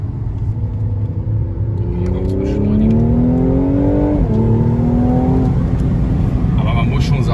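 A Mercedes C43 AMG with all-wheel drive and a Stage 1 tune is driven at full throttle, and the engine and exhaust climb in a loud, steady rising drone. The drone breaks briefly at a gear change and then pulls on, heard from inside the car.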